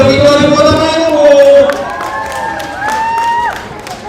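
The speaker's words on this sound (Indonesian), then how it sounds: "ini dia tepuk tangan untuk Victory Kota Palu" Crowd at a football trophy ceremony in a stadium cheers and claps for the winning team, with loud shouting and whistle-like tones over scattered clapping.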